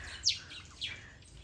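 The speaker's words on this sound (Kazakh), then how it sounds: "Құс қой, Даниял, құс." A bird chirps twice, short and bright, each call close and clear against a quiet outdoor background, heard during a wildlife trip in Africa with no voices present.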